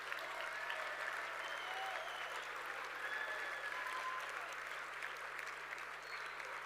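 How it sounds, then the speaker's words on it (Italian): Steady audience applause for a university rector at an Italian lecture event on space exploration, a dense continuous clatter of many hands at moderate distance, holding even for nearly seven seconds. "Un applauso."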